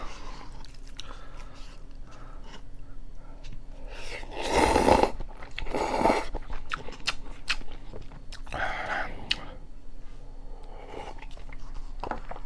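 Someone eats a convenience-store triangle kimbap up close, with crisp seaweed crunching, bites and chewing in bursts and quiet gaps between mouthfuls.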